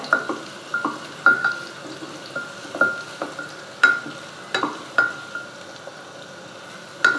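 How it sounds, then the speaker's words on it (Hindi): Onions cook in about half a cup of hot oil for mutton tahari, a steady sizzle broken by repeated spatula scrapes and knocks against the pan at an uneven pace, close and clear. "सबसे पहले प्याज मिलाएंगे। हमने आधा कप के करीब तेल डाला है।"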